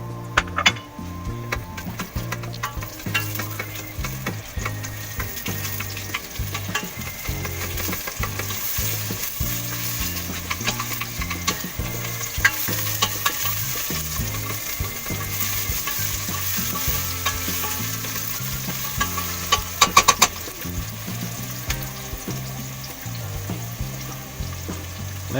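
Onion frying in cooking oil in a pan, a steady close sizzle with frequent stirring scrapes and light clinks of a utensil against the cookware.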